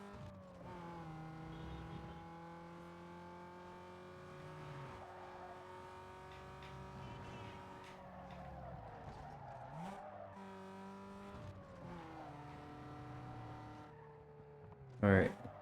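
Race car engine in a video game, revving in long rising and falling harmonic tones as it accelerates on nitrous boost, with tire noise and a sharp bang near the end, under a speaking voice.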